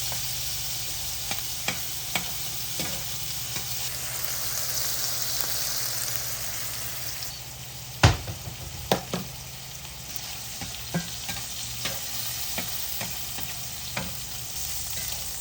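A burger patty and onions frying on a hot griddle, pressed down, give a steady, close sizzle with scattered scraping clicks from a spatula and one sharp knock midway.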